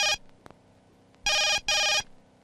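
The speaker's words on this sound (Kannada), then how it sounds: "ಲೋಕನಾಥ್ ಸಾಹೇಬ್ರೆ ಫೋನ್ ಮಾಡಿದ್ದಾರೆ." A telephone rings with a bright electronic trill: one short burst, then two longer rings in quick succession, loud and close with silence between.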